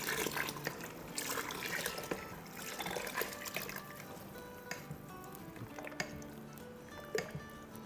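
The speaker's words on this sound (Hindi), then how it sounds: "और अब इसको आहिस्ता आहिस्ता डालेंगे और चम्मच चलाते जाएंगे" Liquid poured slowly into a pot of nali nihari broth while a spoon stirs, giving soft close trickling, dripping and squishing with faint clinks throughout, no voices.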